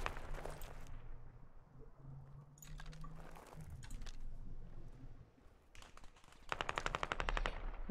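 Bursts of machine gun fire from a vehicle in the military shooter game Squad, fairly quiet and distant, with scattered shots early on and a sharp rapid burst of rounds near the end.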